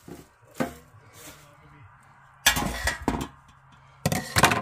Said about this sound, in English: what I'm going to do is put them in a baking tray